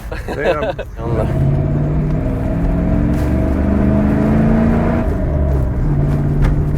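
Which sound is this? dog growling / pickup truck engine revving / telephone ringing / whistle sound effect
pickup truck engine revving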